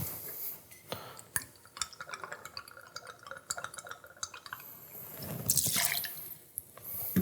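Gin poured into a cocktail glass: scattered drips and small glassy clinks, then a brief louder splashing pour near the end, close by and without talk.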